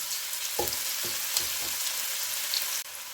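Chopped onion sizzles steadily over low heat in a frying pan with a constant hiss, broken by a few soft scrapes of stirring.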